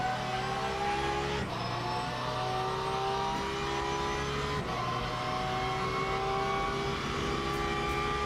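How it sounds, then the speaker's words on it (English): Ford Mustang race car engine in the racing game Le Mans Ultimate, a loud sustained V8 roar climbing through the revs with two brief gear-shift dips, close and steady, no talking. "that Mustang sounded beautiful"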